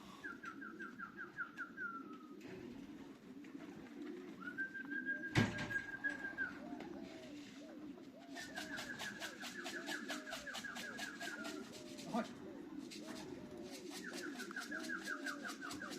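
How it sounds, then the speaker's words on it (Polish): Racing pigeons returning from a young-bird race coo repeatedly in a loft, with soft cooing phrases recurring through steady low ambient rumble, a sharp knock midway and trilling chirps layered over the later part. "Mamy pierwszego gołębia."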